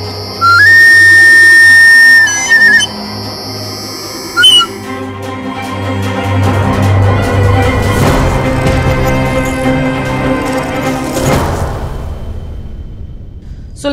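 A suling bamboo flute plays a few high, pure sustained whistling notes in short phrases, followed by a swelling, dense wash of sound that builds and then fades.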